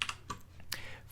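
A computer keyboard clicks close by as a terminal command is typed on Ubuntu Linux, a few quick keystrokes with a sharper tap near the end.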